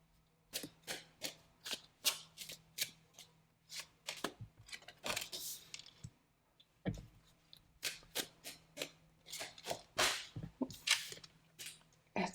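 Tarot cards being shuffled and handled, a series of crisp, quiet slaps and riffles in an irregular rhythm, close by with a faint steady hum underneath and no talking.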